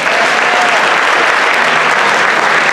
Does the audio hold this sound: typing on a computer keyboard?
no